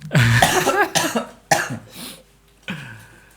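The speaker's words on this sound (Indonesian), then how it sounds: "Aduh, jadi batuk nih" A person coughs several times in quick bursts, close and loud, with short pauses between them.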